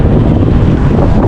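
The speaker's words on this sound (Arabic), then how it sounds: "طقس ريح شوية لكن سافا" Strong wind buffets the microphone outdoors near the national museum in Tripoli, Libya, a loud, steady broadband roar that fills the whole moment with no voices.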